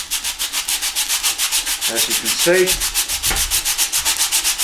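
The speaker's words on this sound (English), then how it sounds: "Now I can sand that ever so easily to get a nice finish." Timber patched with Everbuild Fill Once filler is sanded flush by hand, giving a loud, steady back-and-forth rasp in quick rhythmic strokes, close up, with a brief spoken remark partway through.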